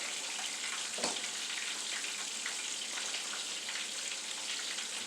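Flipped chicken fried steak fries in a pan with a steady, fairly quiet hiss and crackle, plus one soft thump near the start and no speech.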